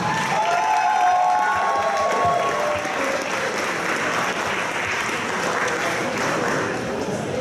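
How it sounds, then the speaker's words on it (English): A crowd at a bartending competition at a convention gives a challenger a big round of applause, loud sustained clapping with a few cheers mixed in and faint voices underneath. "Big round of applause for our challenger"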